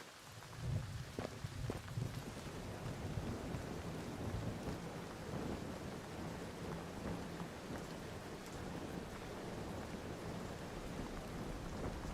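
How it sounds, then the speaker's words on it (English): Steady heavy rain with rumbling thunder in a video game world, a continuous loud downpour with low rolls of thunder and no talking. "Man, it rains so much in this world."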